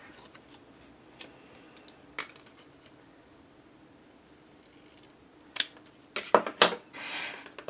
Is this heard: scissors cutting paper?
yes